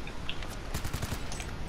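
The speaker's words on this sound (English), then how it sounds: "You tried to shoot me." Rapid gunfire bursts ring out in a Sonic video game, a quick rattling volley at moderate distance lasting under two seconds, with no talk over it.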